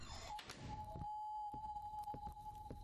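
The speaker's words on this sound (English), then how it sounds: "But the door is opening." A door swings open in the We Harvest Shadows game, a low thunk and creaking movement followed by a sustained eerie tone with soft repeated knocks beneath it.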